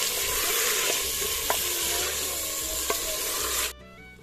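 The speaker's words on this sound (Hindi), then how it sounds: "तो ये मैंने इसके अंदर चिकन शामिल कर दिया और अच्छी तरह से आप इसको भून लेता हूँ" Chicken stir-fried in a handi pot for saag gosht: a loud, steady sizzle with scraping stirs and a couple of sharp utensil knocks, cutting off abruptly near the end, no speech.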